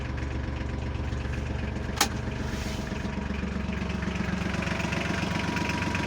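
A Kubota KL30 tractor engine idles steadily with a low, even chug, fairly quiet and unbroken, with one brief click partway through.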